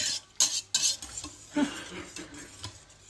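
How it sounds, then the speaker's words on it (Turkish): A spoon stirs water into a pot of cracked-wheat yarma soup, with a few sharp metallic clinks against the pot and soft scraping in between, close and fairly quiet. "Kaynayana kadar karıştıracağız arkadaşlar bunu."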